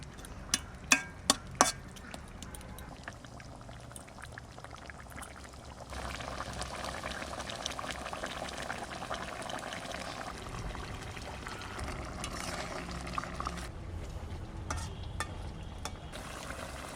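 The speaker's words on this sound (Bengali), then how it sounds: "ঝোল জাল হয়ে গেছে, এবার মাছটা দিয়ে দেবো" Fish curry gravy for a big pond-caught pomfret bubbles in a pan: a few quiet utensil clinks first, then a steadier, louder simmering hiss that carries on to the end with no talk.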